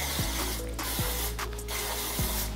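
Dry conditioner sprayed onto knotless braids in three short aerosol bursts with pauses between them, close and fairly loud, with no talking.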